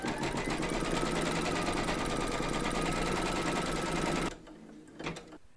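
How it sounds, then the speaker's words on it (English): Close, loud and steady, an embroidery machine runs a fast rhythmic needle chatter while stitching the placement outline for batting on a quilted bee-hive appliqué, then cuts off, leaving a few faint knocks. "Then you're going to pop your hoop into your machine and stitch round number 1, and that's going to give you your placement outline for your batting."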